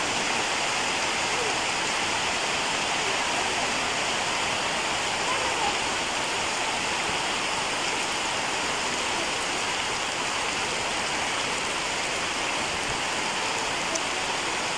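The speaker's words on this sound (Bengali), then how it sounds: "শুধু বৃষ্টি, অজর ধারে বৃষ্টি, মুষলধারে বৃষ্টি" Torrential monsoon rain pours down in a steady, loud, unbroken roar of water, continuous throughout with no pauses.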